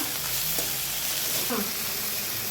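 Vegetable frying lightly in a pan after salt is added, a steady close sizzle with a couple of brief stirring scrapes and clinks, no talk.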